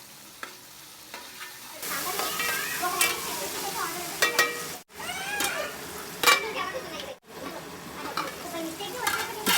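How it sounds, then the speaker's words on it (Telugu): Chopped tomatoes with a spoonful of salt stirred in a hot pan for a home-cooked guest meal, giving steady sizzling and frying with scraping strokes after a quiet start, broken by two brief pauses. "ఇవి కూడా వేసేసి ఒక్కసారి కలుపుకొని ఒక స్పూన్ సాల్ట్ కూడా యాడ్ చేసేసి"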